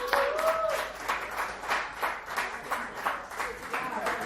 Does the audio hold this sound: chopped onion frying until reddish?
no